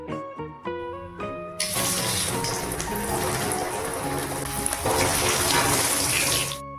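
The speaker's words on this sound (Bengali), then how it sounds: "এবার সেদ্ধ করা আলু গরম তেলের মধ্যে দিয়ে দিলাম।" Boiled potatoes dropped into hot oil for a potato curry, bursting into a loud, steady, close sizzle that fills the rest of the moment after a few brief clear tones at the start.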